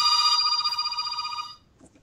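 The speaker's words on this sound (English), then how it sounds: "Sorry, it's my phone." Mobile phone ringtone chimes loudly and steadily, then cuts off after about a second and a half, leaving faint scattered clicks.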